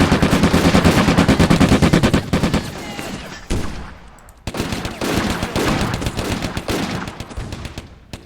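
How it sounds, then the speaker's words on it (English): A Hotchkiss machine gun fires in the Combat Mission: Afrika Korps game: loud, rapid bursts of shots that break off briefly and then start again in a longer rattling stream. "I like that the Hotchkiss is targeting the artillery spotter specifically"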